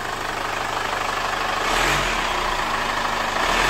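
Diesel engine of a 2015 Chevrolet Captiva FL2 idling steadily after a full cleaning, then briefly revved partway through before settling back to a smooth, even idle; close and continuous, with no talking.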